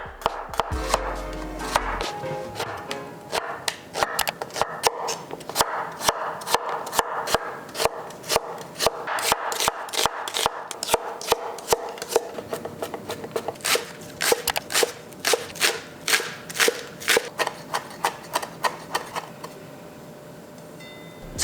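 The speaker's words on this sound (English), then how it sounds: "Let's chop up our veggies." Vegetables being chopped with a knife on a board for vegetarian kalguksoo, a rapid run of close, crisp cuts in a steady rhythm, with no one speaking.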